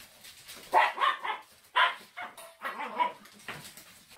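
Several dogs bark behind a window at an animal shelter, sending out bursts of close, sharp barks and yips in an irregular rhythm with short pauses between them.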